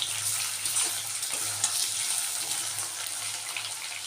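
Potatoes fry in oil in a kitchen pan, giving a steady, close, hissing sizzle with no talk over it.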